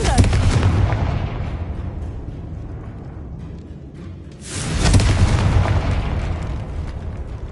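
Spell blasts from the Confringo fire curse in the Hogwarts Legacy video game, two loud booming bursts with rumbling decay, the second starting about midway and sustaining strongly to the end.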